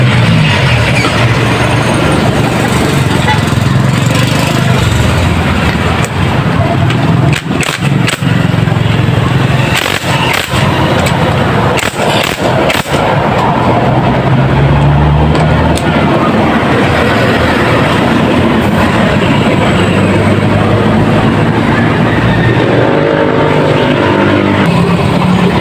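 Yamaha Mio i 125 scooter engine idling loud and close after fuel injector and throttle body cleaning, a steady continuous drone that stays even throughout.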